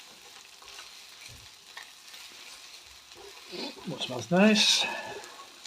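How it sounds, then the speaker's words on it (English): Red pepper and tomato masala with garlic ginger paste stirred and sizzling in a pan, a soft scraping and frying texture, with a voice speaking briefly near the end. "we'll give that a good mix in and we'll cook out the rawness"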